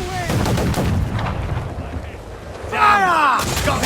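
Ship cannons boom in a naval battle in Assassin's Creed Black Flag, heavy blasts with rumbling tails amid wind and sea noise, while crew voices shout over the gunfire.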